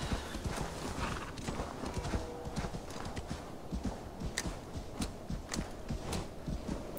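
A horse galloping in the video game Assassin's Creed Valhalla, with rapid rhythmic hoofbeats in a continuous clatter over a dense, busy game soundscape, close and steady throughout.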